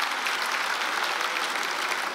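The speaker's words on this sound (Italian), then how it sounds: "Un applauso ai connazionali, ragazzi, che sono qui questa sera." A comedy club audience at a stand-up show bursts into dense, steady applause, loud and close throughout, with no talking over it.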